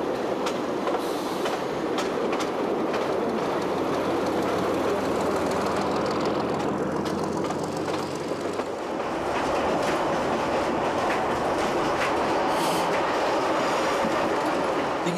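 Elderly rebuilt Billard railcar running on the Balagne line in Corsica, a loud continuous rumble with rattling and clickety-clack of wheels on track, a brief squeal partway through, and no talking.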